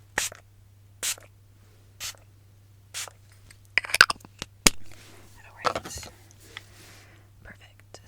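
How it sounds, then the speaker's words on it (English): A priming spray mists close up in four evenly spaced short hisses, then a few quicker bursts and soft handling noises, with whispering around them over a low steady hum. "I am going to put some priming spray on you on top of that just to get your skin primed"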